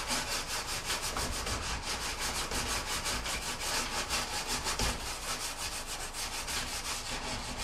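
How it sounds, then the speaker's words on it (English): A stainless steel scrubber ball scours the glass of an oven door in a fast, steady rasping rhythm, close and continuous with no voices. "I'm just going to lightly stainless steel ball it again."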